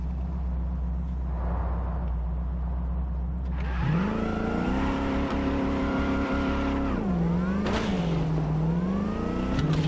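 A car in a Night City video game pulls away and revs, its engine note rising and dipping through gear changes, loud and steady with no talk.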